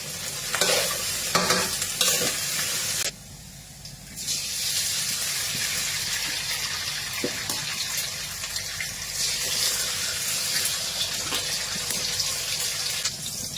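Fried rice being stir-fried in a pan with onion and black pepper, a steady close sizzle with scraping stirs that drops briefly quieter around three seconds, then resumes without talk.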